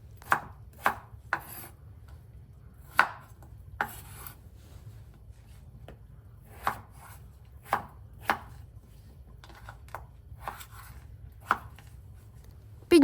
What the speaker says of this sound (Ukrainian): її я нарізаю також такими величенькими кубиками